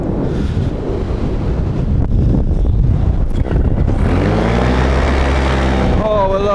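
A paramotor engine restarts in flight during a British Open paramotor championship, rising into a close, loud droning whine after a stretch of wind-buffeted rushing.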